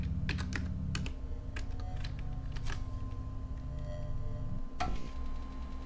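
Rapid clicking and typing on a computer keyboard during a horror game session, with bursts of keystrokes and sharp clicks over a steady low background hum.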